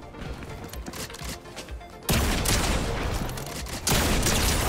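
Havoc pump shotgun fired in Fortnite: loud, close blasts with a sharp burst at about two seconds and another near four seconds, over dense game noise.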